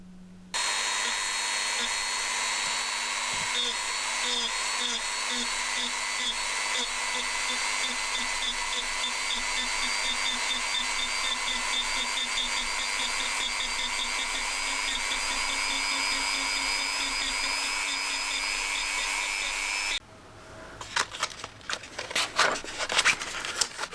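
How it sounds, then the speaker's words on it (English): A rotary tool grinds surface texture into a prop knife handle, a steady high whining buzz held for about twenty seconds before it cuts off, leaving faint handling noises. "we just need to create a bit of surface texture with the rotary tool"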